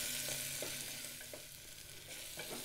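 Chopped onion and curry leaves frying in a pan for a quick vegetable pulao, a soft continuous sizzle under several scraping stirs of a spoon, with no voices.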